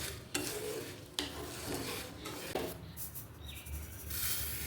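A spoon stirs garlic mango pickle in a pan over a very low flame, just after cumin and dry chillies go in. Soft scraping strokes and gentle sizzling are heard alone, with a few sharper clicks against the pan.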